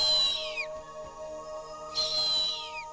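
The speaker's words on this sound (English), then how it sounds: "A harpy's calls" A harpy eagle calls in the rainforest, two thin, high whistled cries that slide downward, spaced about two seconds apart, over a steady hum of background insects.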